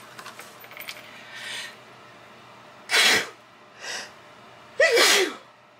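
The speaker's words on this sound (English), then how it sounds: "oh my gosh, I'm gonna sneeze again." Three separate sneezes from one person, the last the loudest, with quiet paper-handling sounds before them while folding a paper pocket folio.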